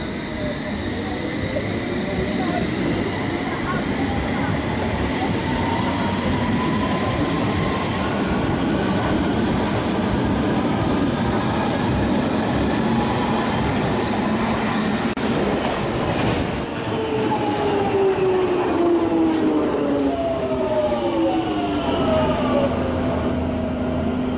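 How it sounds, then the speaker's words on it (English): A London Underground train rumbles steadily along the rails with a loud, continuous roar, wheels squealing in rising and falling tones, especially toward the end. "the most difficult change on the London Underground"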